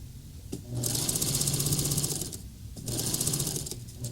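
A sewing machine top stitches the waistband of a Christmas half apron, running in two sustained bursts of rapid, even mechanical chatter separated by a short pause, close up with no talking.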